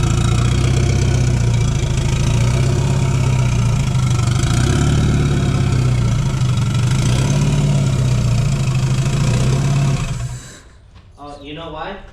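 Turbocharged Mazda Eunos Miata engine idling steadily and loud right after starting, a rough low drone that runs for about ten seconds before cutting to quiet with voices talking.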